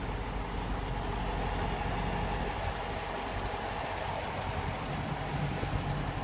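A modern 2016 American muscle car engine runs at a steady idle, a continuous, close rumble with no talk over it.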